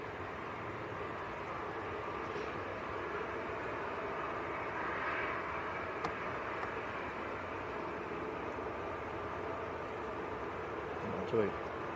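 A plane at Manchester Airport in crosswinds gives a steady, far-off roar that fills the whole stretch, with faint voices in the background.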